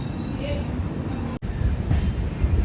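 A Rajdhani Express train roars past during a monsoon journey between Nagpur and Mumbai, a loud, steady rumble of wheels and carriages heard up close from another train, with a brief sharp break midway.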